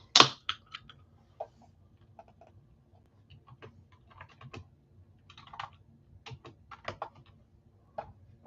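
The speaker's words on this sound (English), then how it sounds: "I guess I should start typing some of that stuff up." Quiet, irregular clicking of fingers typing on a computer keyboard, with scattered keystrokes and small bursts after one louder initial knock, in an otherwise still room without speech.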